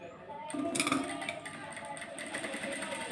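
Sewing machine running with a normal presser foot while stitching a blouse neckline, a steady close mechanical whir with a brief louder burst early on, continuing evenly throughout.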